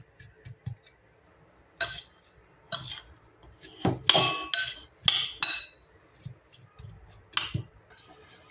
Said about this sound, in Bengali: এখন নাড়াচাড়া করবো।